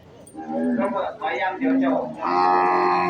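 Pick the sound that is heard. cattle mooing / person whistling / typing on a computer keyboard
cattle mooing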